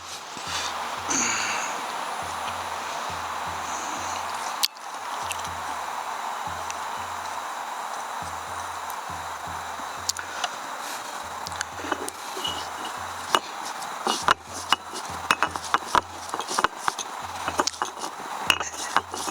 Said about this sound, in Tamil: இப்போ நாங்கள் தேங்காய் இதில் அரைச்சி எடுக்க போகிறோம்